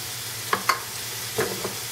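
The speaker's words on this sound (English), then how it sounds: "I'm just going to saute these for 3 minutes." Finely chopped onion and mushrooms sautéing in oil make a soft, continuous sizzle, broken by a few brief clicks or taps from a utensil against the pan.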